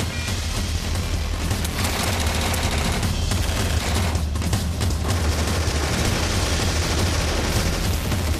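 Dense, continuous gunfire crackles in rapid overlapping bursts as troops assault a villa, loud and unbroken, with deep booming underneath.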